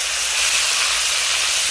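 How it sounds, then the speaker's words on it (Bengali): Chicken pieces for a potato chicken curry fry in hot oil, giving a loud, continuous, close hiss of sizzling without any talk. "এইটা হালকা করে একটু ভালো করে ভেজে নেব।"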